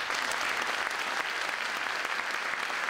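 Continuous, even audience applause for dignitaries including the Japanese consul general at a community day event, a dense steady patter of many hands lasting three seconds without voices.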